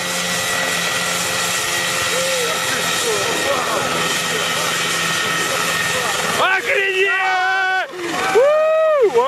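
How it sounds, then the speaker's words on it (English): A homemade helicopter built in Ukraine flies with a steady, droning engine and rotor sound, then a voice comes in over the last few seconds. "These guys in Ukraine built their own helicopter and it actually worked."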